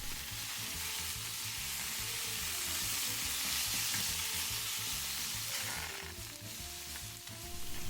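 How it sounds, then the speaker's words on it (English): Loud, steady sizzling of baby octopus frying in hot oil, with crackling bursts and a brief clatter of stirring near the end. "You will immediately hear the octopus frying."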